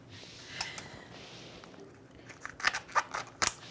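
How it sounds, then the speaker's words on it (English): Kitchen scissors snip through the thin membrane of a lobster tail, giving a few crisp, crackling cuts that grow louder toward the end, with quiet handling noise before them. "put the scissors under the membrane and cut down the center of the membrane all the way to the bottom"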